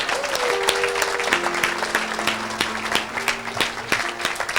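A church congregation claps in a steady rhythm, crisp regular beats sounding over sustained music throughout.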